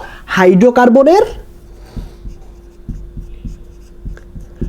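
Marker or chalk on a classroom board during a chemistry lesson on fossil fuels: a brief spoken phrase, then a series of faint, irregular taps and strokes against the board, fairly close.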